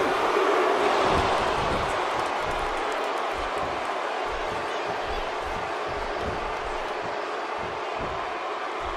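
Wrestling arena crowd from the video game WWE 2K16 during a one-on-one championship match, a steady loud roar of massed cheering filling the whole stretch with no pauses.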